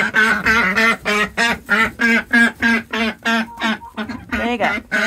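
Duck hens quack loudly and close by in a rapid, regular series of about a dozen harsh calls, repeated with barely a pause between them.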